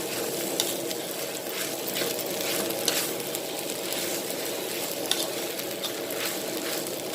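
Pork sizzling steadily as it is stir-fried in a hot pan, a continuous dense crackle with faint scraping and stirring throughout, close and moderately loud with no one talking.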